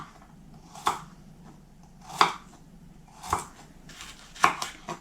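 A knife chops a carrot into sticks four times at a slow, even pace, each cut landing with a crisp thud on a board.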